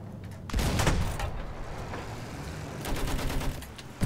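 Tank gunners firing in the video game Battlefield 1: loud, close bursts of automatic fire over a rumbling engine background, with a heavy burst early on, lighter rattling after it and another flurry near the end.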